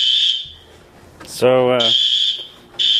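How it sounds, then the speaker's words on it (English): Fire alarm beeping loudly in bursts on a film set, its shrill high tone stopping briefly while a voice speaks over a buzzing hum, then sounding again. "we're here filming, and the fire alarm just went off."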